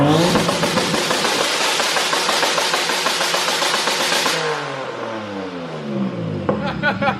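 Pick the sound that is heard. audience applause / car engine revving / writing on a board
car engine revving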